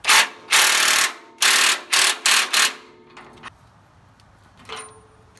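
A ratchet tightens a bolt on a stabilizer bracket of a Ford 8N tractor, giving several loud close clicking bursts in an uneven rhythm before fading to quiet faint clanks.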